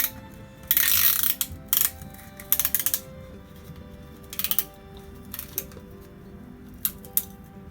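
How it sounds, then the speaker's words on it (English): Metal piston ring compressor being handled and slid onto a truck engine piston, a run of close ratcheting clicks and metallic scrapes in short bursts over a faint background hum. "Gotta grab this piston ring compressor. And we're gonna slide this bad boy on."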